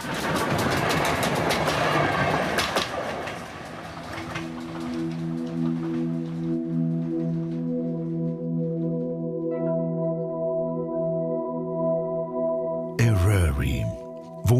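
A passenger train on a preserved railway in North Wales, driven from the front carriage with a locomotive providing power, rolls steadily along the rails with a continuous rumble and clatter, then a sustained tonal hum, close and fairly loud.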